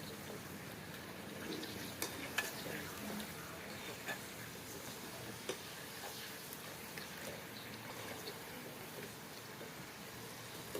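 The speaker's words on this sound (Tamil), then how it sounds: "ஃப்ரை பண்ணி எடுத்ததை திரும்ப ஒருக்கா லைட்டாக ஃப்ரை பண்ணி எடுத்துங்க." Sweet potato chips crackle faintly in hot oil during a second, lighter fry, a soft continuous sizzle with scattered small pops throughout.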